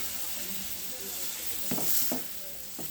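Ground tomato, onion and garlic paste sizzles and fries in a pan for oil brinjal kuzhambu, a steady hiss with a few louder bursts of crackle and stirring near the end.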